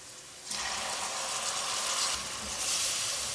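Chopped medium tomato stirred into masala frying in a pan for carrot and fenugreek sabzi; a quiet start gives way to a steady, bright hissing sizzle, close and uninterrupted.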